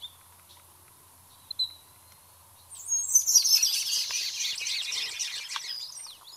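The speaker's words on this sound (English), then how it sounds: "It is a communication sound when two birds, two towhees get together." An Abert's Towhee gives its communication call in Sonoran desert preserve habitat, a burst of rapid, squeaky, jumbled chirps that runs for a few seconds after a couple of faint isolated notes over quiet background.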